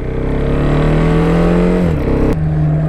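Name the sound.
2014 KTM Duke 690 motorcycle accelerating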